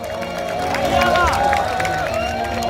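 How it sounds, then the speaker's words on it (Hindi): A large crowd at a Bageshwar Dham religious gathering cheers and claps at a steady, loud level throughout, with voices blended into the roar and whistle-like tones rising above it. "अच्छा लगा तो एक जोरदार ताली बजा दीजिए आप।"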